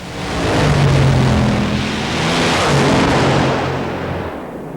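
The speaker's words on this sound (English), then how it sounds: "Engines like these need a real kick to get them going, so this portable chainsaw starter is used to fire them up." A drag racing car's engine, fired up with a portable chainsaw starter, catches and roars as a loud, rough, broadband blast that swells, eases, and swells again before tapering off.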